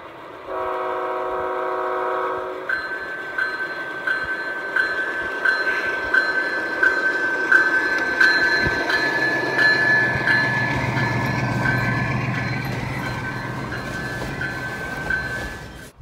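A G scale model train rumbles steadily along the track while a horn sounds in a long blast followed by repeated short toots.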